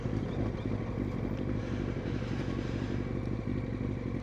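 A Kawasaki ZX9R motorcycle riding through busy traffic, its engine a steady loud rumbling drone with wind buffeting the microphone, continuous and without speech.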